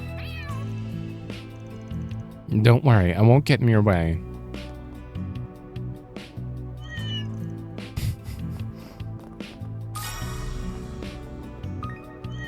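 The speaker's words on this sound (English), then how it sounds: "Looks like the cats have mellowed out a bit." Cats meowing in the video game Trails Through Daybreak II, one loud drawn-out yowl near the start and fainter mews later, over game music while characters talk.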